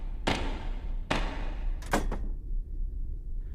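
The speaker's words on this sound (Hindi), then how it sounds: "दरवाजा लगा देना" A door bangs shut three times in quick succession, sharp close thuds with a brief double knock near the end, followed by quiet room tone.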